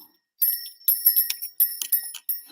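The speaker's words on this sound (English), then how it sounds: "I'm gonna ring the little bell." A little hand bell is shaken in several quick bursts of bright, high tinkling, close by with short pauses between rings.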